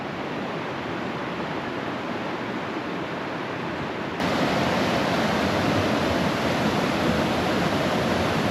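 A creek in Havasupai canyon rushes past rock ledges, a steady broadband wash of flowing water that jumps louder partway through, close and continuous with no voices.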